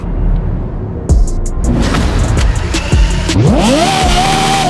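A car engine in Forza Horizon 5 revs hard and loud, climbing in pitch through rising acceleration sweeps, then holding a high steady whine near the end.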